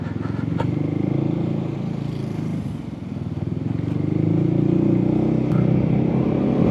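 An Indian-made motorcycle engine idles before a ride to refuel: a steady, close, low rumbling putter with light mechanical clatter, dipping slightly in the middle before firming up again.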